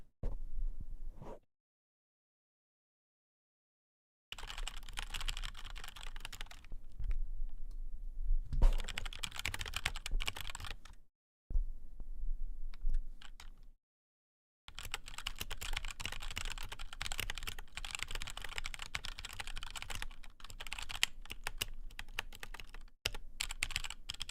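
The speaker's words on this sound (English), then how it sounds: "I like the clicks too. It's like a reward for like if I'm typing something really quick." Fast clicky computer keyboard typing in bursts, with brief silent gaps between runs of rapid, crisp keystrokes heard up close and alone.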